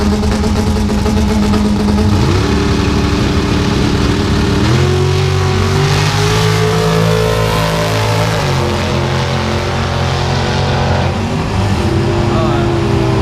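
A 700whp turbocharged Honda B20-powered EK Civic at a drag strip test-and-tune screams hard under acceleration, its loud engine note climbing and dropping through several gear shifts, with voices faintly mixed in.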